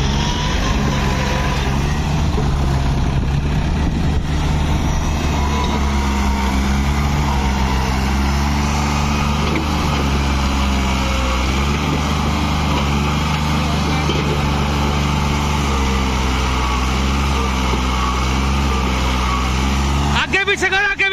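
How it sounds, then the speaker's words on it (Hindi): A New Holland tractor stuck in a field roars at a steady, heavy low drone throughout, its engine straining without a break, with a brief sharper burst near the end. "ट्रैक्टर ज्यादा तगड़ा फंस गया जी।"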